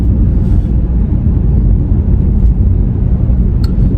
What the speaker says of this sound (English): there's a lot of cars coming down Queen's Drive there.